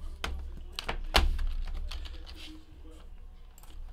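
Quick bursts of typing on a computer keyboard, close and crisp, with a few louder key thunks standing out over a faint room hum and some soft background voice.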